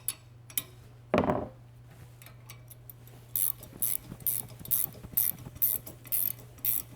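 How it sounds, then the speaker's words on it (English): Ratcheting clicks come in quick bursts as the center support of a Terrateck double wheel hoe is tightened down, close and fairly faint over a low steady hum, with one louder knock near the start. "I'm going to go ahead and tighten that down right now"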